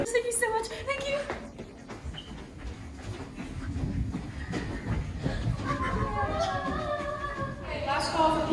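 A train sound effect for a student movie about cell energetics: rhythmic rail clatter and rolling wagon noise with a few squealing tones, running steadily while people speak over it.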